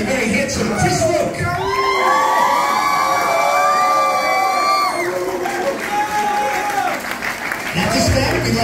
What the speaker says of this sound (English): the applause going